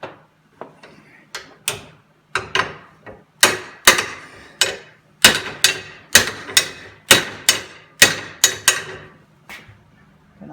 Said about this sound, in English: we'll put the hammer back there to kind of buck that